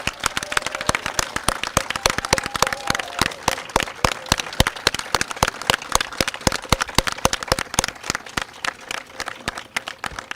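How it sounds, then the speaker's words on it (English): A packed audience at an elementary school moving-up ceremony applauds the graduating class with steady, dense clapping that fills the room for the whole stretch without letting up. "I would like to ask for one more round of applause for this class that is definitely memorable"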